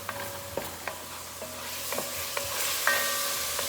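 Carrots and turnips cooking down in a pot of gravy, a soft steady bubbling hiss broken by several clinks and scrapes of a spoon stirring against the pot.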